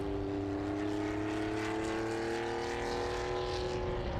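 A Porsche 911 2.5 ST vintage race car with a 2.5-litre engine drones loudly and steadily at a racing circuit, its tone rising slowly as it holds speed, with no voices over it.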